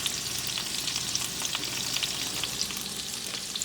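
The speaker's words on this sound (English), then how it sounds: "Sizzle, sizzle, baby, bump, burn, burn, burn. Cook that salmon up." Salmon frying in a pan, a dense steady hiss of hot oil with tiny crackling pops throughout, close and continuous.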